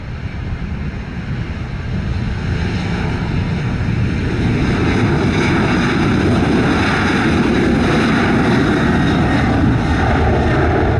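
A jet airliner rolls for takeoff on runway 07 at Montego Bay's Sangster airport in an 18-knot easterly wind, a loud, steady roar that builds slightly over the first two seconds and then holds broad and constant, with no talk.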